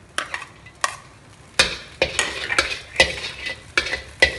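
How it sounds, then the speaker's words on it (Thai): Garlic stir-fried in oil in a wok while cooking chicken crispy noodles, heard as a series of sharp, close scraping and tossing strokes at an irregular rhythm over a faint sizzle. "ผัดให้กระเทียมหอมก่อนนะครับ"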